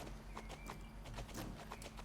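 Appaloosa horse cantering in Star Stable Online, a steady rhythmic clip-clop of hooves close and fairly loud over a low ambient hum, with no voices.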